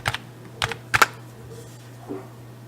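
Someone types on a computer keyboard, a few quick clusters of key clicks over a steady low hum, with a fainter tap near the end.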